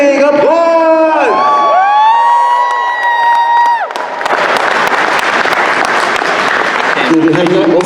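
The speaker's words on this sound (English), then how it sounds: "so let's give Frank Gorham a big applause" Convention audience at an anime and horror fan event bursting into loud applause and cheering, following a shouted announcement and building into a dense wash of clapping and whoops.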